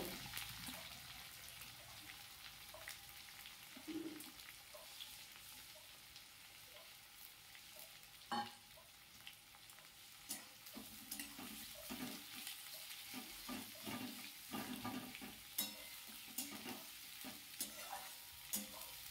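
Finely sliced onions frying in a pan of hot oil and tempering spices while cooking capsicum chicken, a steady close sizzle with scattered stirring clinks and scrapes throughout, no voices.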